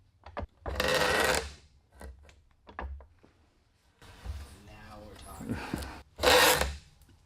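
Antique 130-year-old mortising machine cutting wood, heard as rough rasping bursts of cutting between quieter gaps and light knocks, fairly close and loud in two main spells.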